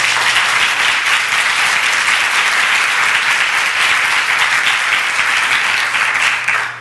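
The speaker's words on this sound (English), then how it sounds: "So can we give them a round of applause, please?" Loud, dense applause from a luncheon audience at a women's leadership event, continuous clapping throughout before cutting off abruptly at the end.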